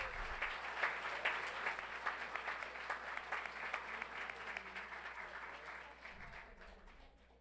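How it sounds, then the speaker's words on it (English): An audience at a school governing board meeting applauds Summit Academy, a steady wash of clapping that holds for several seconds and starts to fade near the end. "Let's have one more round of applause for Summit Academy."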